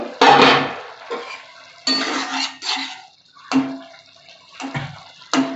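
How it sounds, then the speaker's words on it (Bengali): Pot lid lifted off a pot of boiling hog plums cooking for a poppy-seed dish, several loud clattering metal clanks and knocks in separate bursts, with watery bubbling and quieter gaps between them. "দেখি খুলে ঢাকাটা খুলে দেখি আমড়াটা কতটা সেদ্ধ হলো"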